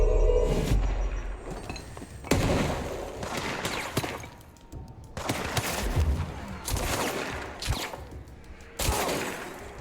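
Shotgun blasts and gunfire in the video game Control go off in several loud bursts, each a sharp boom trailing into debris and reverberation, separated by short lulls.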